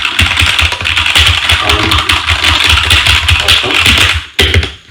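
Rapid keystrokes clatter on a new mechanical keyboard, a dense run of clicky taps close to the mic with a brief pause before the typing resumes.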